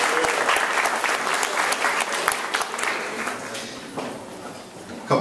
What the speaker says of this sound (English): Get a round of applause for sponsoring us tonight.